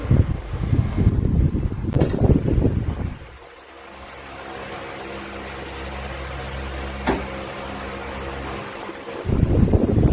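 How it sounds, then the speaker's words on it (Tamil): An Usha table fan runs with a steady, even whirring hum for several seconds, framed by louder handling noise and rustling at the start and end. "ஃபேன் சூப்பராக ஒர்க் ஆயிடுச்சு"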